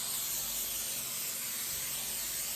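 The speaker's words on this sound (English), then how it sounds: "we're gonna just spray our cookie pan here" A steady, close aerosol hiss of cooking spray onto a cookie pan sprays continuously for a few seconds without pause.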